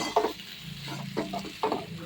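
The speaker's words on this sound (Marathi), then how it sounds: "आता ही भाजी आपण व्यवस्थित मिक्स करून घेऊ" A spoon scrapes and stirs through potato curry in a hot pan, in three or four strokes, over a steady low sizzle.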